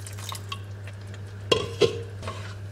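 Water goes into a pan of shakshuka sauce seasoned with paprika, with a few soft liquid splashes and two brief clinks of a utensil against the pan over a steady low kitchen hum.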